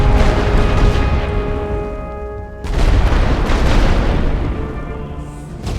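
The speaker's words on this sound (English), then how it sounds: "Incoming rolling barrage." A rolling artillery barrage in the video game The Great War: Western Front rumbles as deep, continuous booms, loud and sustained, briefly easing before surging again, with game music tones layered over it.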